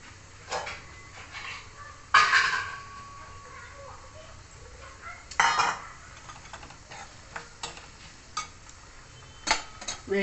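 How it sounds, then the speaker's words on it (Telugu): A pan of tempering with dried red chillies, made for a bitter gourd curry, is scraped into a dish with a few sharp metal clinks and scrapes over a faint sizzle, close by with no talk. "ఇప్పుడు దీన్ని పోపు తీసేసుకుందాము డిష్లోకి"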